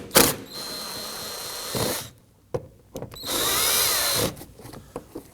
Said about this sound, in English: You can use a Phillips head screwdriver or a power tool.